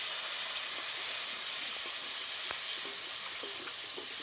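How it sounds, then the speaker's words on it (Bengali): Poppy seed paste, ground melon seeds and green chili paste sautéing in a pan make a steady, loud sizzling hiss with a few faint clinks of a utensil. "সব একসাথে ভালো করে কষিয়ে নেব।"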